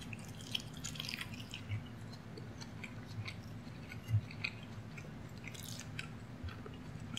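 Moussaka with crispy potatoes being eaten up close, with soft wet chewing and occasional small crunchy bites spread across the quiet stretch, and no talking.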